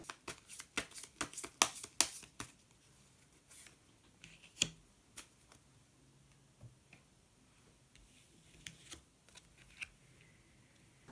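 Tarot cards being shuffled and drawn from a deck, a quick flurry of crisp riffling snaps at first, then sparser soft card flicks and taps, close and quiet with no talking.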